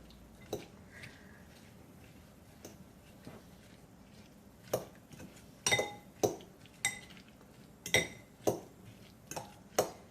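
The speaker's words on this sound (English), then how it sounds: "So I'll put a little bit in there and give it a stir" A spoon clinks against a pot or pan while orange juice is stirred into a taco sauce for Asian chuck steak tacos, sharp metallic taps coming in an irregular run, sparse at first and then quicker and louder, with no talk.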